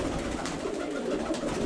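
Pigeons kept in a loft coo softly and continuously, a low murmuring burble with a faint steady background hum and no talk.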